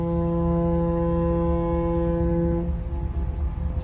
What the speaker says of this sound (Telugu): గట్టి కొట్టు, హార్న్ గట్టి కొట్టు.